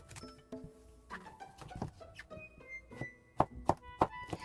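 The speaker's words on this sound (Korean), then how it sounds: "먼저 애호박 하나를 반으로 갈라주세요" A knife halves a Korean zucchini on a cutting board, giving a few firm thunks near the end over quiet kitchen background sounds.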